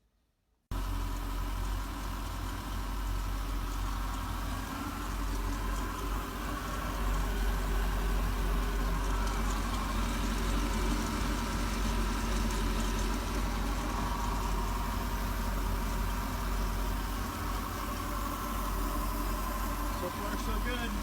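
A Mercruiser 5.0 boat engine idles steadily and evenly, a constant low rumble that runs without pause from just after the start.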